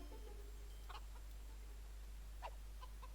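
A couple of short, clucking chicken calls from a Minecraft-style video game animation, spaced apart over a steady low hum, with no talking.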